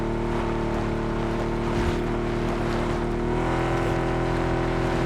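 Engine drone of a car driven in PUBG, a steady continuous hum with stable tonal harmonics that rises slightly in pitch toward the end, loud and alone with no talking.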